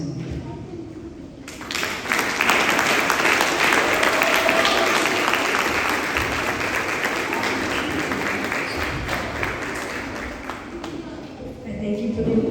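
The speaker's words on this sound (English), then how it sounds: "Thank you for the applause" An audience at a gala celebration bursts into loud, sustained applause that swells after a brief lead-in and holds steady for about ten seconds before easing off, with voices faintly underneath.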